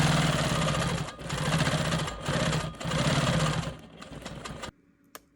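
A Quilt Maker Pro 20 sewing machine stitches free-motion quilting in a steady, loud, close mechanical whir with brief dips, then stops abruptly near the end, leaving near silence.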